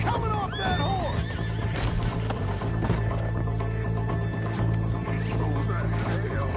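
A horse in Red Dead Redemption 2 lets out a loud, wavering whinny early on, set against a dense bed of game ambience with faint hoof clatter running throughout.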